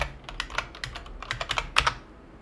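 Fingers type a command on a computer keyboard while opening an admin Command Prompt, a quick run of clicky keystrokes with a short pause and a firmer burst near the end, close and clear with no talking.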